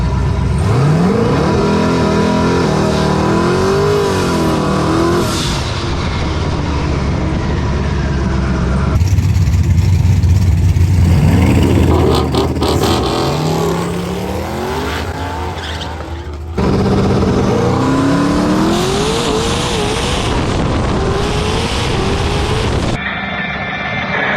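A turbocharged drag race car on radial tires makes a pass at a drag strip, its engine revving up repeatedly in loud rising sweeps with tire noise, heard close and continuous, with abrupt shifts in sound.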